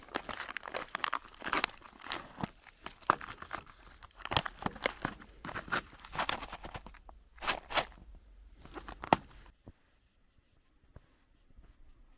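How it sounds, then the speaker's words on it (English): A packet of Danish military ration pasta is torn and opened, with close crinkling, crunching and tearing of the wrapper in bursts that stop near the end, leaving quiet. "Let's open up this pasta."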